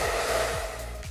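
A handheld hair dryer blows steadily on its cool shot setting with the heat switched off, a constant close whooshing airflow while curls are set in a salon.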